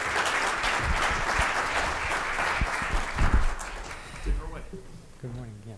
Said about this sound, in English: Let's give him a round of applause and welcome him to the stage